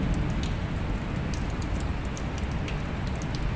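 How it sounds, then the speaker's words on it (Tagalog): A dense, continuous hiss of heavy rain pouring down, with scattered drops ticking on a nearby surface. "Napakalakas na ating ulan."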